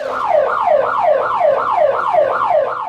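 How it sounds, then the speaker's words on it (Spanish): A loud wailing siren from a national earthquake evacuation drill in El Salvador, rising and falling in rapid, regular sweeps, continuous and clear with no voices over it. "Las alarmas sonaron en las diferentes instituciones públicas y privadas."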